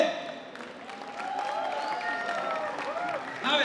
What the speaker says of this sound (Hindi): आप भी वही तालियों से इन्हें नवाजें, प्यार दें अपना।